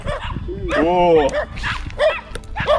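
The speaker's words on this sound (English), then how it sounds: "Dogs." Dogs bark and yelp in a short burst mixed with a man's startled exclamation and other voices, close and fairly loud.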